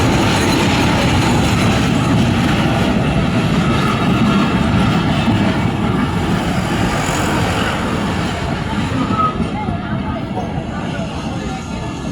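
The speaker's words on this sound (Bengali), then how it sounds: "গাইস দেখেন আমাদের ট্রেন চলে এসেছে।" A train pulls into a station, a loud, continuous rumble of rolling railcars with rattling wheels and some squealing that eases slightly toward the end. Voices are present under the train noise.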